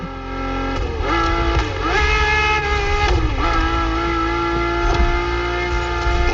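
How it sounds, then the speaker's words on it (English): A car engine heard from the cabin in a Motorfest driving game: a loud, continuous drone with rising and falling revs and gear-change dips, steady throughout with no talking. "And the car's voice sounds even better from inside."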